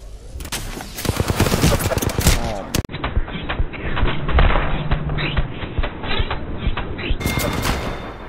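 Apex Legends gunfire in rapid bursts, with dense shots and thumps that go loud and punchy and then muffled in the middle before coming back clear.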